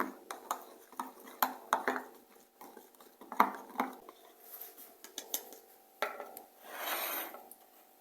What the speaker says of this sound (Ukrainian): всипаємо перчик наш і розмішуємо